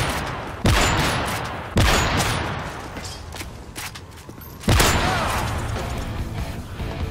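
Gunfire in the Call of Duty video game: three sharp, loud shots spaced a second or more apart, each followed by a decaying echo, with game ambience filling the gaps.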